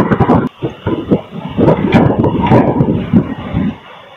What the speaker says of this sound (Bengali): ফাইনালি আমাদের ট্রেন লালবাগ কোর্ট রোড এসে পৌঁছে গেল।